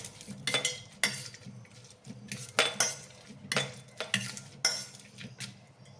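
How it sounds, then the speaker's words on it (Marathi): A masher pressing dragon fruit in a bowl, giving a series of irregular clanking, scraping knocks of metal against the dish, close and fairly quiet, with no talk. "स्मॅशरने आपण त्याला असं स्मॅश करून घेऊया"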